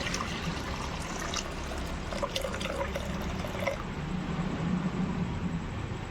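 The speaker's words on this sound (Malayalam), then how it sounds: "അത് ഞാൻ ബൗളിലേക്ക് ഒഴിക്കുന്നത്." Boiled milk pouring into a bowl, a steady close liquid stream with light splashing throughout, alone without voices.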